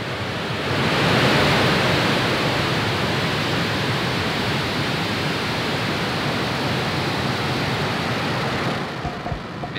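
SpaceX rocket engines at liftoff of the Starlink-18 launch from Cape Canaveral, a dense broadband roar that swells within the first second and holds steady and loud, easing slightly near the end.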